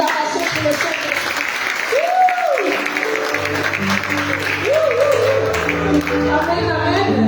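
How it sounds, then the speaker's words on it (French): Congregation at a charismatic prayer meeting applauding and cheering, steady clapping throughout with rising whoops and shouts, while music plays underneath in the second half. "de fortes acclamations pour le Saint-Esprit."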